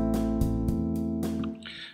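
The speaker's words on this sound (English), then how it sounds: "the rhythm of the kick drum is the same as the rhythm of the bass." Notation software plays back a bass line alternating root and fifth, with a kick drum hitting in the same rhythm, giving a few even thumps and low notes that are clean and close with no voices.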